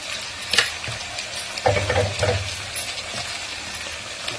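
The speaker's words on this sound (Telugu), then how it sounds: "పసుపు సాల్ట్ వేసిన తర్వాత ఒకసారి కలుపుతున్నా." Potatoes being stirred with turmeric and salt in a pan for a Telugu-style potato curry, giving a few scraping, rustling stirs with a faint sizzle underneath and no voices.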